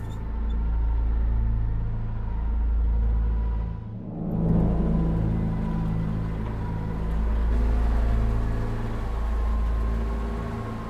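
A car engine drones steadily with low rumble, dipping briefly then swelling again as the vehicle keeps driving, heard alone without voices in a war drama scene.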